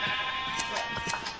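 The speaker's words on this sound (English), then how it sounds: "I feel like I could get some white sheep in here." Sheep bleating in the Minecraft video game, several short repeated bleats close together over a steady game background, with no talking.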